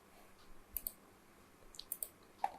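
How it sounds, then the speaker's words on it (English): A few sharp, quiet computer mouse clicks come at irregular intervals, each a short isolated tick over faint room noise. "we click on finish"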